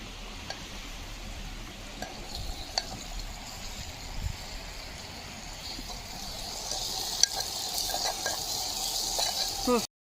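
Ginger and garlic frying in a mud pot for a vegetable biryani cooked outdoors by kids, a steady soft sizzle with occasional stirring scrapes and faint voices in the background.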